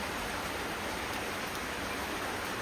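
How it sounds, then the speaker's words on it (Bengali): Heavy rain pours steadily outside a house during a days-long storm, an even, dense roar of falling water with no breaks and no voices. "এখনো বৃষ্টি কমছে না"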